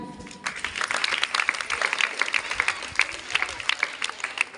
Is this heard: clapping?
yes